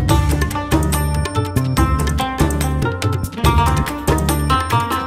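An Afghan-style music score built from sampled rubab, tabla and percussion plays loud and dense, with plucked melodic lines over a steady driving drum rhythm throughout.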